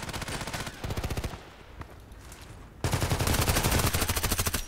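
Automatic weapon fire in a shooter game with very wide bullet spread: a rapid rattling burst, a short pause with scattered shots, then a louder sustained stream of rapid fire, all close and dense.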